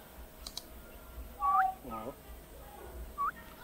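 A honey hunter of the Toboro tribe whistles to imitate the call of a honeyguide bird while searching for honey: a few short rising whistled chirps and a brief voiced call, fairly faint over quiet outdoor background.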